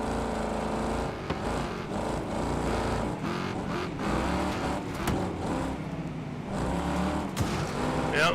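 Race car engine in a racing video game, dense and continuous as the car climbs a hill, with shifting engine tones and brief bumps throughout.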